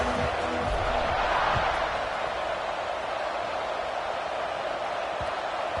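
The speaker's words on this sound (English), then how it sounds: "this crowd is buzzing after that last score" A steady, dense roar from a stadium crowd at a college football game between USC and Florida, broad and continuous, with commentary over it.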